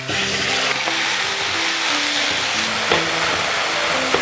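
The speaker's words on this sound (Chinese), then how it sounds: "开始炒起，来到菜籽油，油烧熟啊，放入肉末" Minced pork fries in hot rapeseed oil with a loud, steady sizzle, and faint stirring knocks come from the pan now and then.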